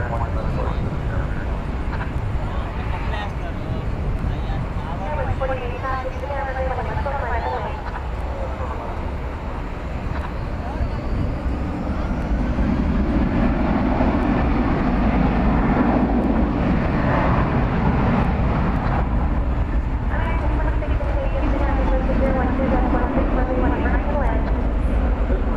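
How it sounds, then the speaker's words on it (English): A Qatar Airways Airbus A350-1000 rolls and departs from Dallas Fort Worth airport at night bound for Doha, a broad, sustained jet roar that swells and grows louder toward the end, with a person talking over it. "And there goes Qatar. It's an A350-1000 off to Doha."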